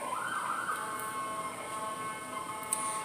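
Emergency sirens wailing outside, faint and distant, a steady rising and falling tone over a broad background hum with no talk.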